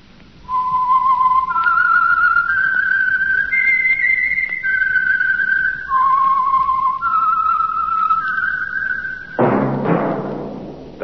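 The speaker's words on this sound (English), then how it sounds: "That whistle is your signal" A lone whistled theme melody for The Whistler radio show rises and falls in clear sustained notes over about nine seconds, loud and close, ending in a burst of orchestral music.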